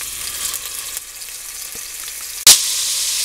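Short ribs laid into a hot pan sear with a steady, quiet sizzle, then a loud burst of crackling spits up as another piece hits the oil and the frying grows stronger.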